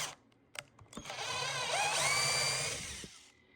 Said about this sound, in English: The first step is to drill some holes throughout the bucket.